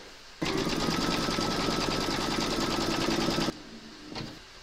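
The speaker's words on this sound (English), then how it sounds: "you're going to stitch round number one, and that's going to give you a placement outline for your batting" An embroidery machine stitches a placement outline for batting on a poppy window pane tote bag, a steady, loud, fast rhythmic whirring that runs about three seconds and then stops abruptly, with a faint mechanical shuffle afterward.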